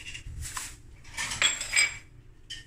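Butter and mustard powder stirred with a metal utensil in a bowl, giving a few scraping, clinking strokes near the microphone, with short pauses between them and no talk.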